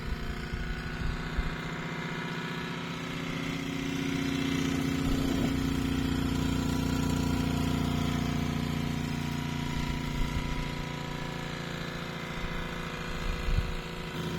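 A French Mamod steam wagon runs with a continuous, even mechanical hum. The steady chugging drone swells slightly in the middle and then eases, with no talking over it.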